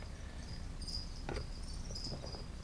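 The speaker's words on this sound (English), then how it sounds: "Let me scare this cricket toward her." Cricket chirping near a hungry pet as it is fed, quiet high trills repeating in short bursts over a low background rumble.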